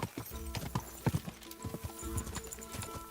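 Rapid hoofbeats of a horse race in Kingdom Come Deliverance II clatter in a quick galloping rhythm, close and busy, with a faint whinny mixed in.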